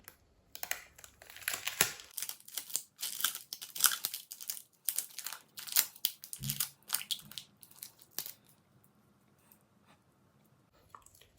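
Tape is pulled and wrapped tightly around a homemade battery, producing dense bursts of crackling, ripping and crinkling that come and go in quick flurries, then fade to near quiet with a couple of stray rustles.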